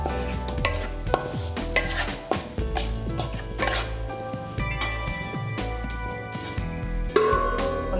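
Salted prawn biriyani stirred in a pot with butter, giving irregular scraping and clinking of a spoon against the pot over a low sizzle, close and moderately loud, with no talk.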